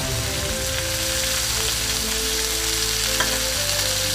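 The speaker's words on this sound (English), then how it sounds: "we're just going to start flipping until all of the cabbage gets coated and gets an opportunity to get some of that heat on it" Cabbage fries in a hot pan, a loud continuous sizzle with scraping and stirring noises as it is flipped and tossed, close and steady with no talking.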